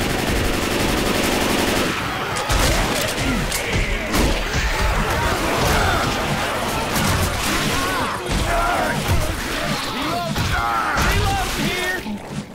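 Rapid automatic gunfire in Left 4 Dead 2 on The Parish campaign, a steady stream of close, loud shots with impacts and thuds, voices talking over it during the fight.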